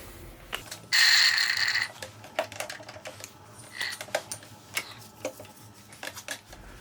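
An OTC suction gun draws oil out of a Honda HR214 lawnmower, giving a loud, close, second-long sucking whoosh with a thin whistle, followed by scattered plastic clicks and mechanical clatter.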